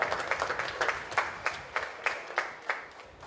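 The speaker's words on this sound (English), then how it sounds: "give Monica a round of applause" A polo club audience gives a round of applause outdoors, a sparse, fairly faint scattering of claps in an uneven rhythm.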